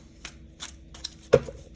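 A deck of tarot-style reading cards is shuffled in a quiet room, with a few soft, separate riffling swishes spaced apart and a sharper card snap toward the end.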